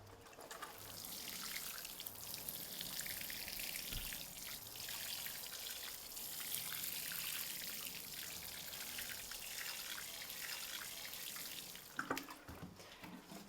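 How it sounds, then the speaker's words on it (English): Water poured steadily onto a tire garden on a balcony, a soft, continuous splashing trickle heard faintly up close for most of the stretch, with a few louder splashes near the end. "Then you can take your water and start watering."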